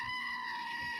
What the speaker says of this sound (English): here to get us started is a screaming goat